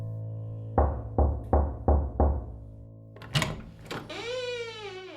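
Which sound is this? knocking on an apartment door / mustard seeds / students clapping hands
knocking on an apartment door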